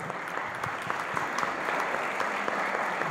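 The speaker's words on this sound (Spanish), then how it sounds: "un aplauso a Ciudad Obregón" An audience at a church tribunal gathering applauds the Ciudad Obregón group, producing a short, dense, even burst of clapping that holds steady from start to finish.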